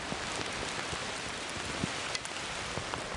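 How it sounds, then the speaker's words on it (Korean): Rain drips and patters on a mountain trail, a steady even wash of rainfall with irregular nearby drops tapping through it, moderately loud and without talk. "뚝뚝뚝하네, 막 비가."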